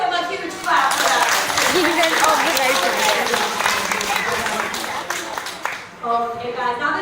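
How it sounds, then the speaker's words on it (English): Audience clapping at a parrot show in a Great Yarmouth amusement park, a lively burst of applause mixed with voices and a presenter talking over it, fading briefly near the end. "let's give him a huge clap for that."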